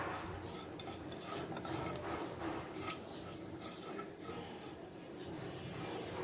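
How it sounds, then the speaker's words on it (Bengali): Raisins and chopped nuts with whole spices being stir-fried in a pan, a soft continuous sizzle under repeated scraping and stirring strokes, faint and close. "সব কিছু একসাথে ভালো করে ভেজে নিই।"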